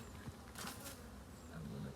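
Honeybees buzzing around their hive, a faint, continuous drone that swells and fades as bees fly close and knock against the boxes, with a few low sounds underneath.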